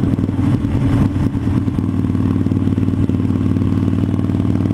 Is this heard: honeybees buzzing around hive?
no